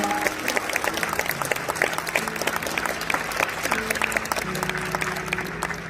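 An audience at a school graduation ceremony in a church applauds an award recipient with steady, dense clapping throughout, while a faint sustained musical tone plays underneath.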